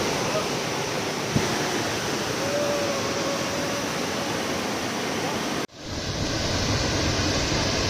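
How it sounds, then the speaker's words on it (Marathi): Rogewadi waterfall on a village stream in Konkan pours with a loud, steady rushing roar close by, broken by a brief cut near the end before the roar resumes. "बघू शकता आपला वॉटरफॉल रोगेवाडी वॉटरफॉल"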